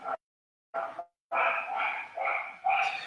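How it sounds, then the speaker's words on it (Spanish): A dog at home barks a few times in short bursts, then breaks into a longer run of barking and yapping. Fairly close and loud, with no talking. "ya mi perro está ladrando, quizás se escuche por ahí"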